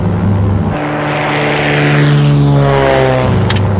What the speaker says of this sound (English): It's a light plane, Ray